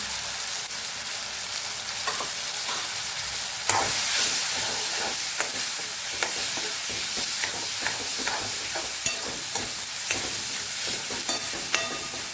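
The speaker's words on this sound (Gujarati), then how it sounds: "ટમેટા એકદમ સોફ્ટ થઈ જાય ત્યાં સુધી આપણે આને સાતડવાનું છે" Tomatoes sautéing with red chili powder and turmeric for panchratna dal, a continuous close hiss and crackle of frying with occasional stirring scrapes and pops, no voices over it.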